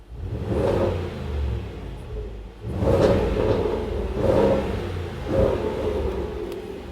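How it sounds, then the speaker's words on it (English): A 2018 Range Rover Sport SVR 5.0 V8 engine revs hard several times in a row in dynamic mode, deep rumbling sports exhaust rising and falling in loud, close bursts with no talking. "Now it's in dynamic, so the sports exhaust kicks in"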